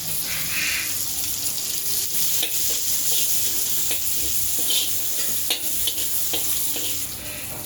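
Onion frying hard in a pan for a chicken and vegetable stir fry, loud continuous sizzle with repeated scraping stirs of a spoon throughout, close and without speech.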